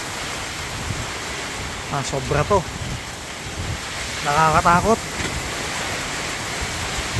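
Strong typhoon wind and rain lash a farm in the Philippines, a constant broad roar of wind-driven rain close to the microphone, with someone speaking twice over it.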